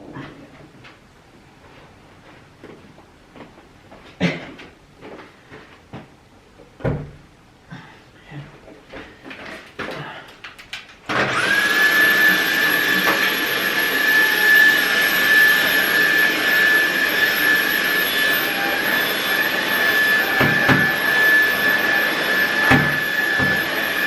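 Vacuum cleaner starting up partway through, its loud, steady motor roar and high whine continuing to the end, preceded by scattered knocks and handling noises.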